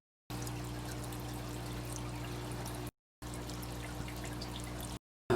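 Water trickles and pours steadily as aquarium filter sponges are soaked for a fry rearing and quarantine tank, a continuous close liquid flow under a low pump hum, broken by two short gaps of silence.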